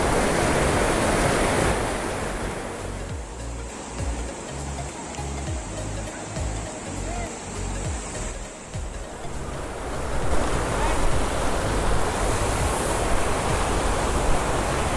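A waterfall at Nandi Hills near Bengaluru pours down in a continuous heavy rush after rain, a broad steady roar that swells slightly toward the end, with no voices.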